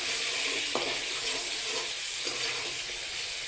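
Spice paste sizzling and frying in hot oil in a pan for a milk colocasia curry, a steady loud crackling hiss with a couple of stirring scrapes, no voices.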